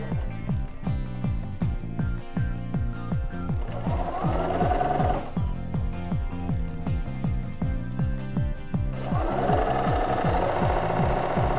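A sewing machine stitches around the curve of a shirt collar, a steady rapid mechanical chatter that pauses briefly and resumes, close and continuous throughout.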